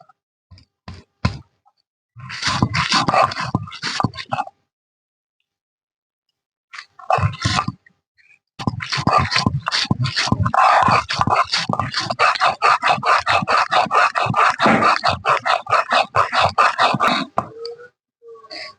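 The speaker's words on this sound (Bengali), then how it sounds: "মৌরি আর এক চামচ মতো ধনে এবার এগুলো বেটে নেবে" Fennel and coriander seeds with two cardamom pods ground into paste by hand, a steady rough scraping and crunching that comes in bursts, pauses, then runs on continuously and close up with no talk.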